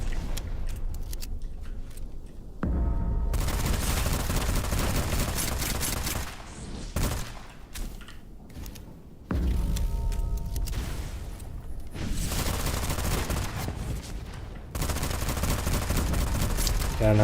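Gunfire from a gun in the video game Witchfire: loud repeated bursts of rapid shots in several long volleys, broken by short quieter gaps, close and dominant.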